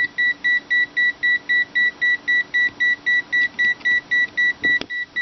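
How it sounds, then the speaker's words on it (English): A steady run of short, high electronic warning beeps from a digital multimeter measuring over its range, repeating at a quick, even pace, loud and close, with no voices. "the meter's going to just keep beeping at us because it's over what it likes"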